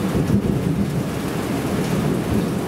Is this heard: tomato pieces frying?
no